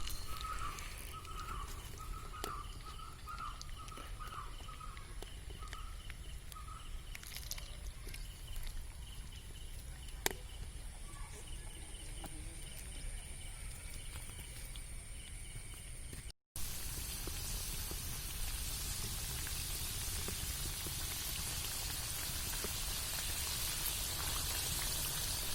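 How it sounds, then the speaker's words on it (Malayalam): Second batch of French fries deep frying in oil, a continuous crackling hiss like rain with scattered pops, which grows denser and louder after a brief cut, no talk. "ഇനി നമുക്ക് രണ്ടാമത്തെ ട്രിപ്പ് ഒന്ന് വറുത്തെടുക്കാം."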